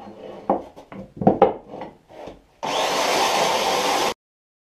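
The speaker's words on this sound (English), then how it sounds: "That's pretty much it for the sanding" Pallet wood sanded with 60 or 80 grit on a power sander: scattered rubbing scrapes, then a steady loud whirring grind for about a second and a half before stopping abruptly.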